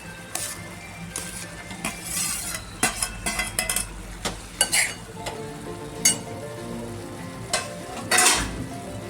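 Shelled pigeon pea (tur) beans drop into a hot pan and are stirred with a spoon, giving sizzling and frying under repeated metal scrapes and clinks against the pan.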